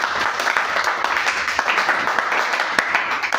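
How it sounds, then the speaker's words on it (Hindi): Audience applause at a talk about drug addiction, a dense steady wash of clapping that fills the short moment without pause, fairly loud and close. "एक जोरदार ताली बनती है।"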